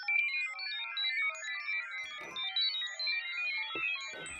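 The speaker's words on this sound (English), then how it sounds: "This is a very classic computing sound" Predator-3 synth FX preset giving a classic computing sound: a busy, continuous warble of rapid random bleeps and chirps, steady and moderately quiet, with brief lower blips near the end and no voices.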